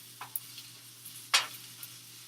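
A peanut vegetable stir-fry sizzles quietly in a pan while a utensil scrapes through it in two short strokes, the second louder, with a faint steady hum behind.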